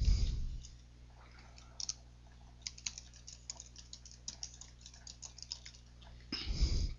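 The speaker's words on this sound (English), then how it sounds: "So I'm clicking on the job, right clicking, and going to rename." A computer mouse clicks several times while a job is renamed in software, light, sharp clicks scattered unevenly across a quiet background, with louder handling noise at the start and end.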